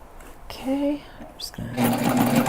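A sewing machine stitching a backpack runs in short bursts for a brief backstitch, with a louder steady run at the end and a quiet voice nearby.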